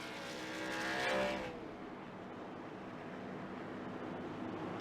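Race car in a K&N Series stock car race at Chicagoland accelerating away behind the pace car, a loud engine roar that peaks around a second in and then fades into steady distant track noise.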